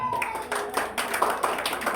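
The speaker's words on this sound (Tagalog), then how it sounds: "Pumalakpak na yung mga kabataan." Young people in a church congregation clap in a brief, scattered burst of handclaps. The clapping is moderately faint and uneven, with a voice briefly audible.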